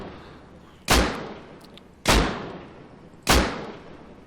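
Three loud, sharp gunshots ring out in the video game Rust, each a sudden crack with a decaying tail, spaced about a second apart over a quiet background.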